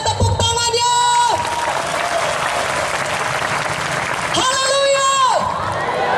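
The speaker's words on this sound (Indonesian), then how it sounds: "Mana tepuk tangannya?" Church congregation applauding and cheering at a crusade service in Sibolga, a loud, sustained crowd roar of clapping with shouts, with rising sung or called tones at the start and again near the end.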